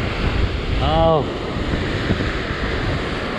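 Surf and strong wind buffet the microphone on a rocky coastline during shore fishing, a steady roaring wash with gusty rumble throughout, and a man briefly exclaims near the start.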